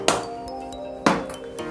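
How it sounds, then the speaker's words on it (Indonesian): Hammer blows on a chisel breaking open a wall along a water pipe: two sharp metallic strikes about a second apart, each ringing briefly with a clinking tone, close and fairly loud. "membongkar dinding sepanjang pipa air menggunakan palu dan betel"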